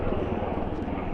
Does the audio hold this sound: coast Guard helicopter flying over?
yes